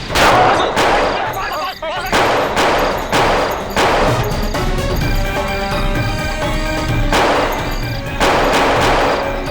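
Gunfire in a Hindi crime drama scene set in a village: loud repeated shots and bursts come in waves across the whole stretch, with brief crashing impacts and some voices mixed in.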